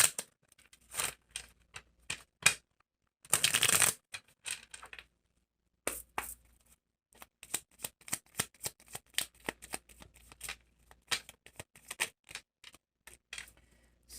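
Cards in a Clue-style board game shuffled and handled near the microphone: bursts of crisp flicking and riffling, a longer shuffle early on, then rapid irregular card snaps after a brief pause.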